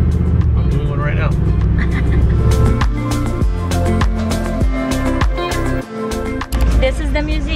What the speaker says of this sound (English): I'm driving the car.